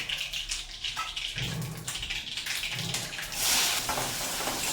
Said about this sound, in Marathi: जिरं मोहरी छान तिथे तडतडली की कांदा घालायचा